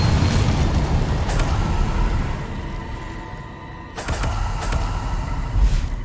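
A Bombarda blasting spell goes off in Hogwarts Legacy, a deep booming roar that fills the first few seconds, dips, then surges again with a second heavy blast, loud and close.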